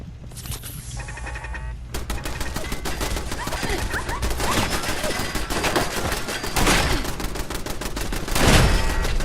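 Shotgun blasts in a video game, a loud run of sharp, rapid booming shots that continue with little pause, accompanied by heavy impacts and a burst of tones at the start.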